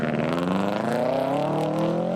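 A Mitsubishi Evo rally car on a 29-kilometre Shipman stage in the Australian Rally Championship, its engine loud and close, revving steadily upward in a harsh rising drone with no voice over it.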